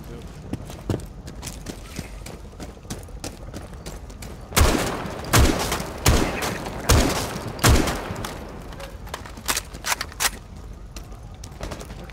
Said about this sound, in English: Shotgun out all the windows.